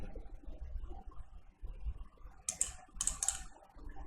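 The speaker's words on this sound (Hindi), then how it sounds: "अब मैं यहाँ पर 10 टाइप करता हूँ" Fingers tapping a computer keyboard while entering a value in Photoshop, a few crisp, quick keystrokes clustered in two short bursts over a quiet, low room hum.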